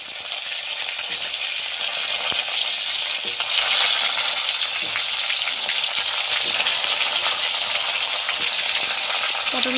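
Pointed gourd, bitter gourd and potato fry in hot oil in a home kitchen, a loud, steady, close sizzle that runs unbroken throughout with faint stirring clicks and no voices.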